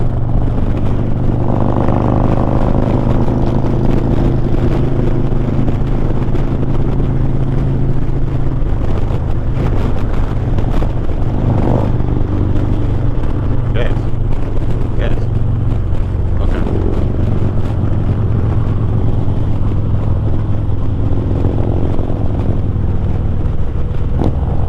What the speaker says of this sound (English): Bikes are sounding good, man.